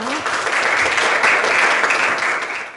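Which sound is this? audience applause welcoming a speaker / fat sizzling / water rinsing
audience applause welcoming a speaker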